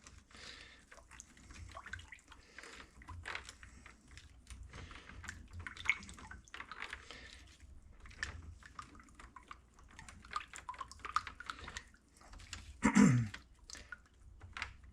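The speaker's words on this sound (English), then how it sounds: "And I'm going to stir this up." A liquid mixture for restoring a rusty vice grip clamp is stirred in a container, giving faint, scattered sloshing and light clinks that run steadily for about fifteen seconds with one louder splash near the end.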